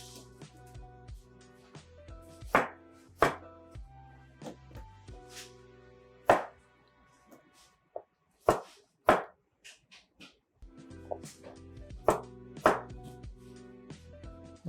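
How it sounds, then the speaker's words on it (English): A kitchen knife chops butternut squash into big chunks, making sharp, irregular thunks on a cutting board with short pauses between cuts, and a faint background hum. "now I can cut big chunks"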